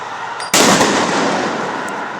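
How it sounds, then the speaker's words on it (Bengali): Police gunfire during a street clash sounds as a sudden loud, sharp blast that cuts in abruptly and then rings out in a long, noisy decaying roar, heard close and alone without talk. "পুলিশ এদিকে গুলি করতেছে"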